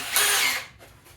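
A short, high-pitched whine of a power drill boring into red oak, lasting under a second before it winds down.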